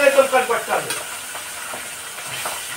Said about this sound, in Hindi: खाली फट रहा है मछली का माथा जब भूनेंगे एकदम फटता ना छिटकता है